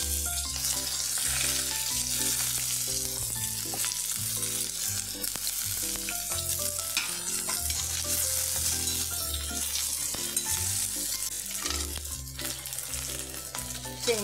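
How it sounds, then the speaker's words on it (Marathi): Mustard seeds, cumin, onion and green chili fry in hot oil for kanda poha, producing a dense, continuous sizzle. Loud, tonal music plays throughout, and the frying sits partly underneath it. "तेल तापलं त्याची मोहरी टाकायची, जिरे, कांदा,"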